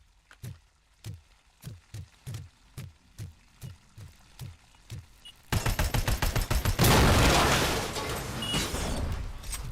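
Gunfire in the video game RoboCop: Rogue City: about ten evenly spaced single shots, then a rapid burst of automatic fire that gives way to a loud, sustained roar of explosions and debris.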